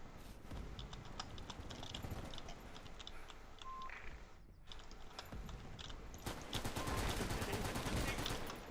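Gunfire in the video game Military Conflict: Vietnam, with rapid bursts of shots over steady game background noise, getting denser and louder toward the end.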